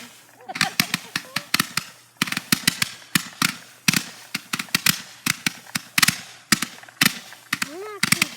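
Backyard consumer fireworks launch and burst in rapid, irregular succession, sharp cracks and pops coming close and loud, with a few whistling streaks between them and excited voices in the background.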